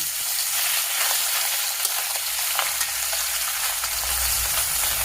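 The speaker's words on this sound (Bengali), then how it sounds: "এভাবে লাল করে মাছগুলো ভেজে নিব।" Pieces of fish frying in hot oil until reddish-brown, giving a steady, close crackling sizzle with faint scattered pops and no talk.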